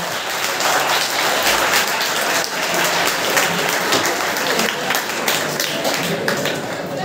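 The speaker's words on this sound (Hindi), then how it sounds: "तो एक बार आप अपने लिए तालियां बजाइए कि आप इस प्रोग्राम में हैं" An audience of students at a school program applauding, dense continuous clapping from many hands filling the room, loud and steady throughout.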